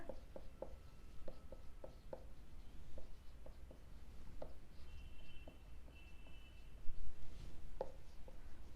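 Pen scratching across paper while writing out a narration for a journal entry in a bookkeeping exercise, in short repeated strokes and taps, faint and close, with quiet room noise and no talk.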